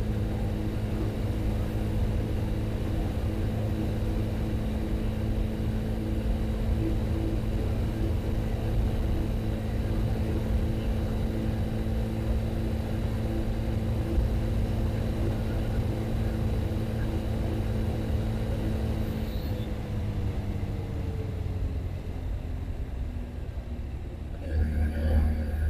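Yamaha FZ-X motorcycle engine while riding at about 6000 rpm on a city road, a steady droning hum with constant pitch and loudness, shifting slightly near the end as the engine note changes.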